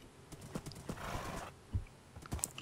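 Horse hooves clip-clop in the Minecraft video game, with a few clear thuds and a brief neigh near the end, fairly quiet and with no talking.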